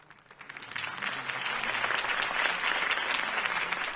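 Crowd applause at a campaign rally in Batman: The Telltale Series swells from a thin start into dense, sustained clapping from a large audience, steady and fairly loud, with a faint low murmur beneath.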